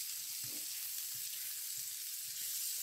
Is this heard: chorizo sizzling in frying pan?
yes